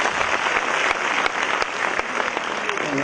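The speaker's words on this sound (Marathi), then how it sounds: "त्यांच्यासाठी एकदा जोरदार टाळ्या होऊन जातात" Audience applause at a youth award ceremony, a steady dense clapping that fills the hall at even loudness throughout, with faint voices underneath.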